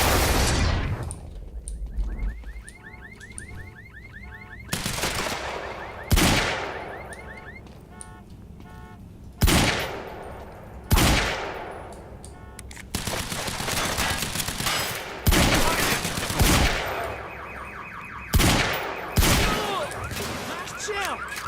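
Gunfire in a Remedy shooter game: repeated sharp, loud shots and bursts of automatic fire spaced every second or two, each trailing off, over a continuous game background with occasional voices.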